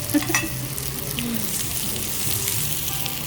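Food fries in spattering oil at a wagyu restaurant, a constant close sizzle with stirring sounds and a small clatter at the start, and faint background hum.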